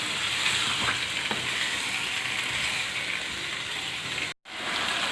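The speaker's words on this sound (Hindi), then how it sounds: "पाँच से 6 मिनट के लिए हम चिकन को" Chicken pieces fry in a pan for a biryani, giving a continuous close, even sizzle with a couple of faint clicks and a brief cutout near the end.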